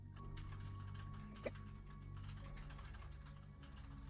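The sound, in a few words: typing on a mechanical keyboard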